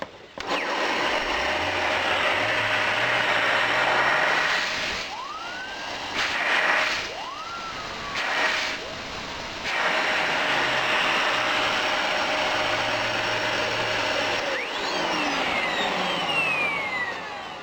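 An electric blower motor pushing air into a melting furnace roars with a steady whine, its pitch dipping and rising several times as the airflow is restricted and opened up, alone without voices.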